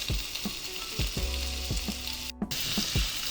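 Cubed tomatoes sizzle and fry in a hot skillet for eggs pizzaiola, a steady crackle broken by the rhythmic scrape and knock of stirring about every half second, close and fairly loud.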